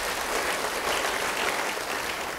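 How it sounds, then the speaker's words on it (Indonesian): A church congregation claps in a loud, even wash of applause that holds steady throughout, with no talking over it. "Yang mau beri tepuk tangan bagi dia."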